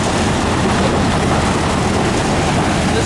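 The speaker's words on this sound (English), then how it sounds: "This is a 350 horsepower impactor." A Hazemag 350 horsepower extra heavy-duty primary impactor with a Q rotor crushing rock in a crushing and screening plant, a loud, dense, continuous roar and rumble with no letup.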